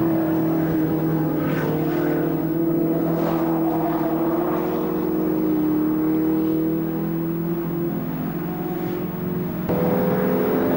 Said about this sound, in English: Paul Hughes in the Jaguar C-Type, and just behind him the Elva Courier of Jerry Trace